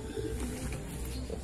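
Racing pigeons at a fun race coo softly and close by in a brief low burble over faint background ambience, with no talking.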